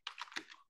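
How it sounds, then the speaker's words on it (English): Fast typing on a computer keyboard, a quick run of dense, clattering keystrokes with a brief pause before a final burst, close and alone. "I'm just typing it fast and I'm not paying attention to what I'm doing"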